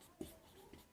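A pen writes on paper, producing soft, faint scratching strokes with a few small taps, close and quiet, without talk.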